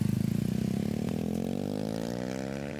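Motorcycle fitted with a loud aftermarket sport exhaust revs up from a rapid, throbbing idle into a rising engine whine, close and prominent throughout.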